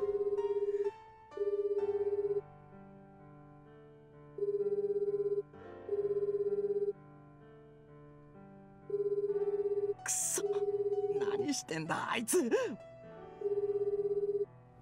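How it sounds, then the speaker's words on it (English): A cell phone rings in Dies Irae, a repeating electronic ringtone in regular bursts separated by short pauses, clear and steady, with a brief sharp noise and rustle near the end before the ring resumes. "I broke off into a run, the cell phone still ringing in my hand"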